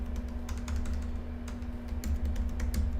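Quick bursts of clicking keystrokes on a computer keyboard while a file name is typed into a command line, close and fairly steady over a low electrical hum.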